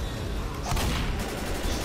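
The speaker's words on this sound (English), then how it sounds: "Oh, that is one effective gun" Rapid gunfire from a weapon in Left 4 Dead, Dead Centre level: a dense, continuous wash of shots that swells into a sharper burst near the middle and keeps rattling loudly to the end.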